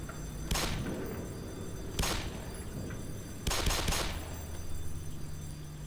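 Heavy weapons fire in the video game Black Mesa: three sharp, loud bursts of gunfire a second or so apart, the last one a longer double volley, over a low ambient hum.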